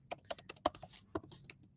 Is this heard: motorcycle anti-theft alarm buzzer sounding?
no